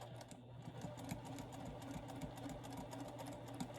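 A sewing machine runs steadily, stitching along a pocket edge on a batik linen tunic, with a continuous whirring hum and rapid needle ticks throughout.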